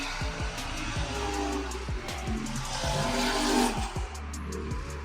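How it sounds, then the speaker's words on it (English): Several cars rev their engines at a JDM night car meet outdoors, giving repeated rising and falling engine roars with brief tire squeals, loud and continuous with crowd noise behind. "You can hear those cars. It's crazy."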